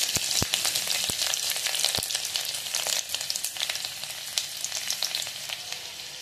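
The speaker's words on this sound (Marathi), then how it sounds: "तेल टाकले, मोहरी, जिरं आणि आपण आता बारीक चिरलेला लसूण टाकूया त्याच्यामध्ये।" Finely chopped garlic frying in hot oil with mustard seeds and cumin, a dense steady sizzle dotted with sharp pops and crackles, close and fairly loud, with no talking.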